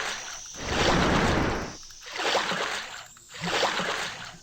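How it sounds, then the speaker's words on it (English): Oars rowing a boat along a river in Avernum II, heard as three long rhythmic whooshing splashes of water, each swelling then fading, fairly loud and close. "From ahead, you hear an unpleasantly familiar rowing noise."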